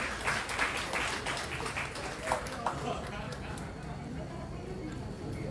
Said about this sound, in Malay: Satu tepukan gemuruh untuk YB Fadlina.